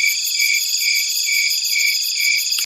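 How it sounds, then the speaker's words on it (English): A crickets chirping sound effect, a dense, loud, continuous high trill that pulses steadily for a few seconds and then cuts off abruptly, with no voices over it. "crickets."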